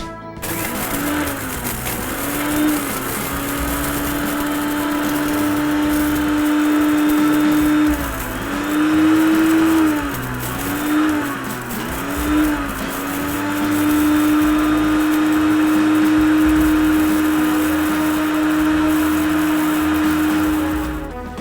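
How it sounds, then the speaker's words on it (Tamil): A mixer grinder in a home kitchen grinds tomatoes and onions for Chettinad chicken, a loud, steady, close whirring motor whose pitch dips briefly several times as the load shifts, running continuously with no talk. "இதுக்கப்புறம் தான் நம்ம வந்து தக்காளி, வெங்காயம் மற்றதெல்லாம் அரைக்க போறோம்."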